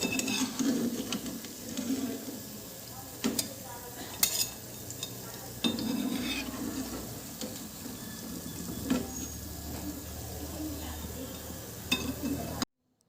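Crisp wheat-flour biscuits sizzle in hot oil as they are lifted out to drain, with a continuous frying crackle broken by metal scrapes and clinks of the utensil against the pan.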